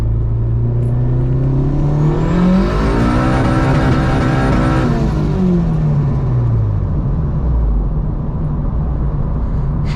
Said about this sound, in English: There's a little third gear roll on for you guys.